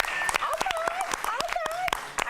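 A TV studio audience claps in a quick, lively patter while voices whoop and call out over it, loud and close throughout.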